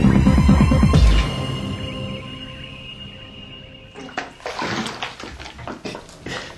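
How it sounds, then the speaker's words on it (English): A bathtub emptying, with water sloshing and draining in a steady low rush that fades into quieter gurgles, followed by brief splashy bursts near the end. "as the water empties from the bath, the volume remaining decreases"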